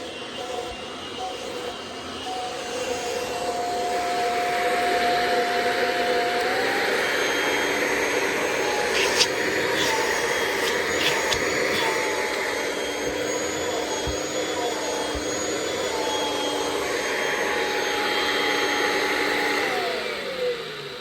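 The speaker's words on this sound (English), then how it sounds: "Yes, I think it's a great little vacuum." Kirby Ultimate G Diamond Edition vacuum cleaner runs continuously with a loud, steady whine and airy roar, its pitch shifting slightly as it works, with a few clicks partway through.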